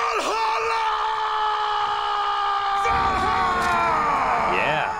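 Viking warriors in the For Honor video game roar and scream a Valhalla battle cry together, a sustained crowd of loud yelling voices with rising shouts and whoops toward the end.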